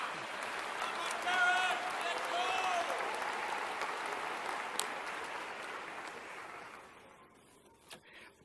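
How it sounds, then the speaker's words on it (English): Parents in a large commencement audience clapping, a broad sustained wash of applause that swells early, holds for several seconds and then fades out, with faint voices mixed in. "Yeah, that parents are clapping."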